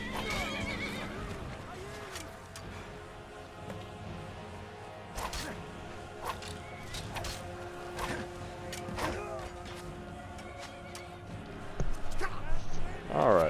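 A horse whinnies amid clopping hooves and scattered Skyrim game noises, with some talking over the scene, and a louder neigh near the end.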